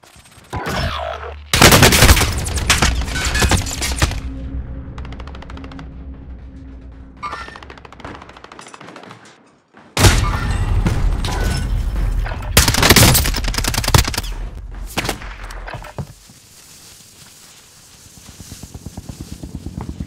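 Video game battle during a stadium bounty in Plunder, with loud bursts of rapid gunfire and booming shots in two long volleys separated by a brief lull, then fading to quieter scattered firing.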